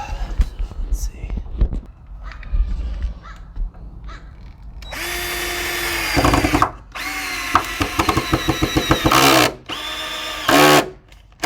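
Power drill driving 3.5 inch screws into boards on a woodshed build, loud whining bursts that start and stop several times in the second half, after quieter handling noises and soft talk at the start.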